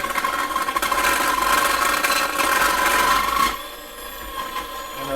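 A KitchenAid food processor on high speed grates carrots fed down its chute, giving a steady, loud whirring rasp that cuts off abruptly near the end, leaving quieter motor hum.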